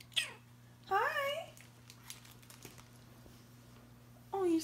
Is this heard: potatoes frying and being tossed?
no